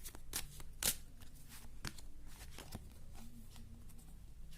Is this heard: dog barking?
no